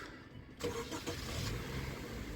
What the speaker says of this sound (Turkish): Frenle basarsan araç çalışıyor.